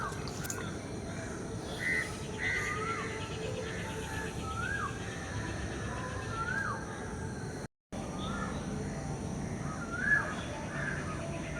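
Scattered morning bird calls, including caws and chirps, ring out at a distance over a steady outdoor hum on a house rooftop, with no one speaking.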